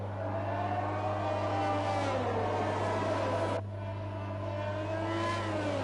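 Race car engines whine at high revs on the Jeddah street circuit at the Saudi Arabian Grand Prix in a sim racing league, a steady mechanical drone with shifting pitch and a gear change partway through.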